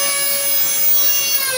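A 3D-printed jet engine compressor runs at steady high speed during a load and surge test, giving a loud, continuous tonal whine with bright high harmonics and an airy rushing roar, unbroken and without voices.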